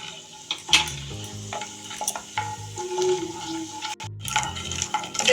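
Whole cumin and black cumin seeds sizzle in hot oil with a moderate crackle, interrupted by metallic clinks and scrapes of a spoon against the pan.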